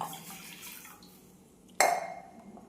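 Water is poured into a pan set on a gas stove, a sudden close splash and gurgle after a near-silent lead-in, fading over the last second.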